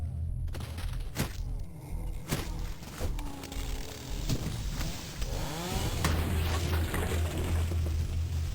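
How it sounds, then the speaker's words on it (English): A chainsaw-wielding enemy in the video game Cultic revs loudly amid game combat, with bursts and booms from explosions, and the engine drone swells and sustains toward the end. "Oh my fucking god, dude, the chainsaw."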